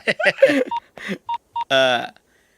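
A person speaks briefly, then a few short electronic keypad tones sound one after another as a mobile phone number is dialed, followed by more talk.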